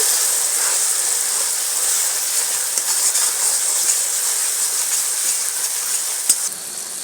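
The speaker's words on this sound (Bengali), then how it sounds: "আদা রসুনটা দিয়ে বন্ধুরা আবার একটু ভালো করে কষে দিচ্ছি" Ginger garlic paste sizzles in hot oil in a pan while fish curry is cooked, a steady loud hiss running unbroken throughout, with one sharp tap near the end.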